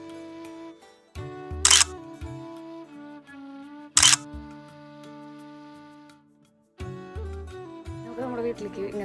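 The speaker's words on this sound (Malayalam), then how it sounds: "ചേച്ചിക്ക് ഫോട്ടോ എടുത്തു." Two sharp camera shutter clicks about three seconds apart, each a brief bright burst over steady background music, with louder music returning at the end.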